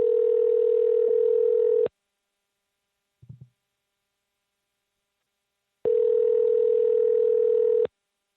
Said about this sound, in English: Why is there a Skype number calling my phone?